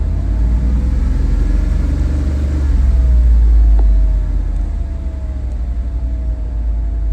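A 1994 Chevy Cheyenne K3500 truck engine drones in a steady low rumble, swelling louder for a few seconds as the transmission kicks down and the revs climb, then settling back to a heavy cruising hum.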